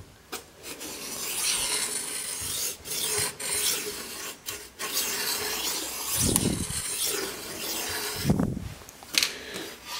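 Pencil held in a homemade wooden stick compass scraping a circle onto a wooden board, a close, dry rasping scrape in steady strokes with brief pauses and a couple of louder low knocks.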